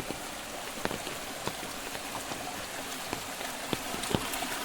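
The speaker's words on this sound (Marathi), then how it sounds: "आपल्या कुंभवड गावात गावाचा पहिल्यांदाच पाऊस आहे हो" Steady first monsoon rain falls into a muddy village gutter in Kumbhavade, Konkan, a dense even hiss dotted with occasional sharper drip ticks, no voices.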